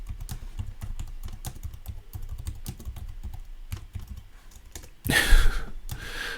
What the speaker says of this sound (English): seem to be determined to type confirm wrong